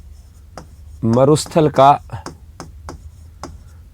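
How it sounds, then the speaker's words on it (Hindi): Marker or chalk strokes on a board during a geography lesson, heard as short, sharp taps and scratches that continue in a steady run after someone speaks briefly in Hindi. "नेक्स्ट लिखता हूं"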